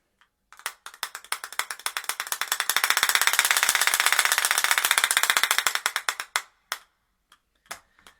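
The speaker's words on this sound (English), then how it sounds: "Clappers." A percussionist's clapper sounds a long run of sharp wooden claps, rapid and steady like a ratchet, building to a dense loud roll before thinning into a few scattered strikes near the end.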